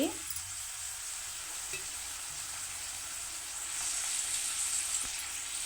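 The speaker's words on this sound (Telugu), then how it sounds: "బాగా వేగనివ్వాలి" Broad beans, chikkudukaya, frying in a pan for a tomato curry, a steady hissing sizzle that grows slightly louder toward the end, with faint stirring clinks.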